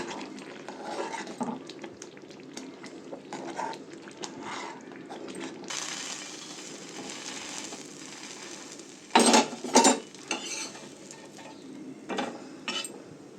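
Pav bhaji gravy is stirred with butter in a pan, and a metal spoon scrapes and clinks against the pan in irregular bursts, with a few louder knocks near the end and faint sizzling underneath.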